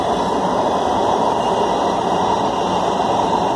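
Steady, loud rumble and rushing hiss inside a Los Angeles Metro Red Line subway train running underground between Wilshire/Vermont and Studio City as it decelerates, with a constant high whine above the roar and no talking.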